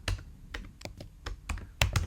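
Computer keyboard typed on while writing front-end code, a close, irregular run of about a dozen clicky keystrokes that bunch at the end, with no voice.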